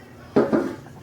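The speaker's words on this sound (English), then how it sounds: "Get this lid off" A lid is pulled off a tabletop theatre-style popcorn popper with two close, short clattering knocks of metal and plastic, the second slightly softer, in an otherwise quiet kitchen.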